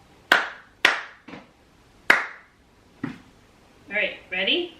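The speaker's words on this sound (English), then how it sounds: "I'm going to clap and then you're going to read it" Hand claps in a short rhythm inspired by Bach, several sharp separate claps spaced unevenly, followed by brief speech.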